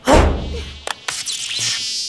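Spyfly, a small robotic spy fly gadget, gives a loud close insect-like buzz at the start, followed by a few sharp clicks and a thinner whirring buzz that drifts in pitch.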